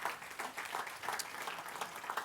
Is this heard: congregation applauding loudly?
yes